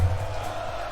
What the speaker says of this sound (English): Crowd going absolutely bananas for Moist.